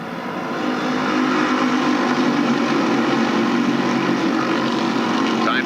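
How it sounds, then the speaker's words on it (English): Late model stock cars race side by side at Stafford Speedway, their engines blending into a loud, steady, droning roar of a pack passing through the turns, with no clear talk. "Side by side, the field is really going at it through turns 1 and 2."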